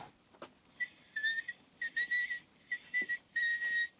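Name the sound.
child whistling, played back on a dictation recorder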